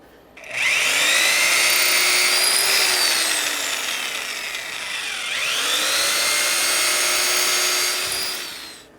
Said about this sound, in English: I've got 18 more holes to drill